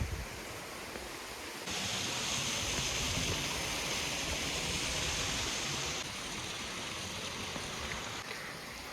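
Water flowing through Mayadevi cave in Dang, Gujarat, at a low level, a steady faint rushing hiss that swells slightly partway through, with no voices.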